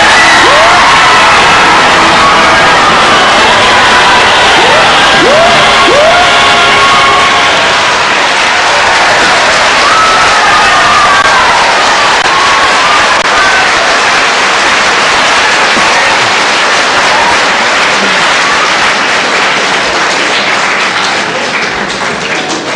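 TV quiz show studio audience in 1978 erupting into loud, sustained cheering, shouting and applause when a contestant stops on a lucky number, the noise holding full and close before easing slightly toward the end.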